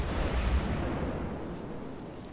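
Heavy naval gun fire from a Kirov cruiser in a tier 5 naval warship video game: a deep, booming low-end blast near the start that rolls off into a long rumbling decay, with no talking.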